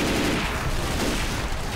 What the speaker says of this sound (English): Why did the gate explode?